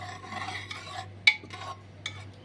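Cooked moong dal with green mango being stirred in a pot, soft scraping and rubbing strokes with one sharper clink of the spoon against the pot, close and fairly quiet over a steady low hum.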